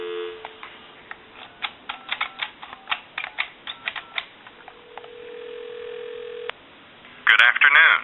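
A Western Electric Trimline telephone gives a run of sharp clicks, then a steady, clean dial tone that holds for about two seconds before cutting off; a louder burst of sound follows at the end.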